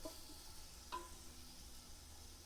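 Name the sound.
stirring quail and rice in a cooking pot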